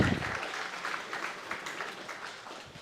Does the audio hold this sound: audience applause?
yes